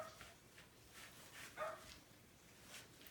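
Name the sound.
dogs barking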